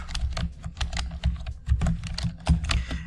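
Rapid, uneven clatter of keys on a computer keyboard as CSS code is typed, close and steady with brief pauses between bursts, no voices.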